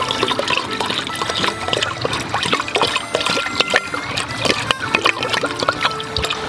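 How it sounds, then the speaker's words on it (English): A whole bottle of spiced rum pours steadily into a pot outdoors in a forest, a continuous close gurgling, splashing stream that runs for several seconds. "You're going to throw the whole bottle in."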